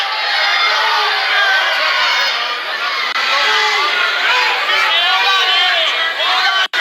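A fight crowd at a bout shouts and yells, a loud, dense mass of overlapping voices that is nearly constant and cuts off abruptly at the end.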